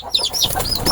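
Country chickens cluck in a quick, close series of short calls, loud and clear with no talking.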